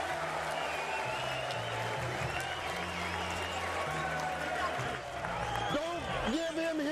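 Boxing arena crowd cheering and applauding as Clottey raises his arm during his fight with Diego Corrales, a sustained roar of many voices under a commentator's talk.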